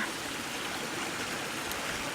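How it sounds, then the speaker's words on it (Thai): A forest waterfall rushes in a steady, even roar heard from close by. The broad hiss of falling water runs unbroken with no voices over it. "มานั่งใกล้น้ำตก เย็นเย็นค่ะ"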